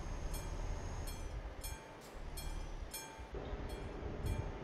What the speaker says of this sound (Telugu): ఎక్కడ ట్రైన్ సౌండ్ వస్తుందేంటి? ట్రైన్ వస్తుందా ఏంటి?